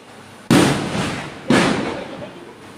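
Diwali flower pot fireworks ignite one after another, two sudden loud roaring bursts of fizzing spray, each starting sharply and tapering off, with no voices.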